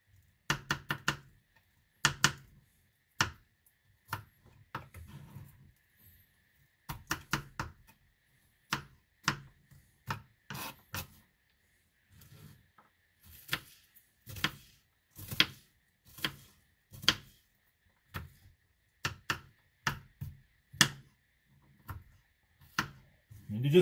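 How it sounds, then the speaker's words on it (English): A knife chops mango salsa ingredients, including red onion, on a cutting board: close, crisp rhythmic strikes in quick bursts with short pauses between runs, no voices. "Got a couple of big pieces we gotta chop up."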